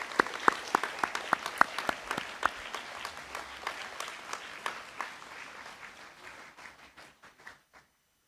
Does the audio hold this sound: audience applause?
yes